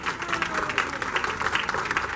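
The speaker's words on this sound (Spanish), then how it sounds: "Aplausos, por favor." An audience at a cosplay contest during a national comics festival claps steadily, a dense, lively applause that holds throughout without pause.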